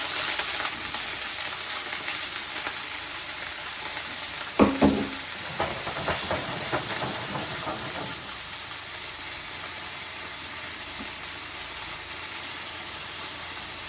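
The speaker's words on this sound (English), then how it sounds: "start searing off my vegetables. I'm going to start with my sausage and my broccoli" Sausage and broccoli searing in oil in a pan, a steady close sizzle throughout with a few sharp crackles and stirring bursts near the middle, no voices over it.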